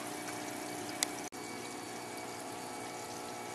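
Air bubbles steadily through reverse osmosis water in a deep water culture hydroponic bucket, making a continuous close hiss and fizz with one brief click partway through.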